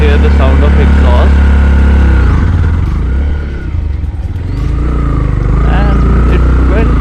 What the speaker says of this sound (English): You can hear the sound of exhaust,